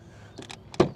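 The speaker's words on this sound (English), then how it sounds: "Then door closing sound" Compact SUV door swinging shut with a single solid thud and a short latch clunk, preceded by faint mechanical clicks, heard close by in a quiet space.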